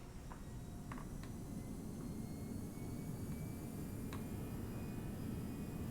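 Airbus A319 thrust reversers roaring during the landing roll in the X-Plane 11 flight simulator, a steady loud broadband rush that holds evenly for the whole stretch with a few faint clicks over it.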